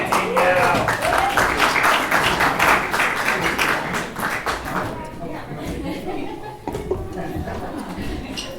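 Audience applause for a certificate recipient at a board of education meeting, steady clapping from many hands filling the room, fading toward the end with a few scattered claps and murmured chatter.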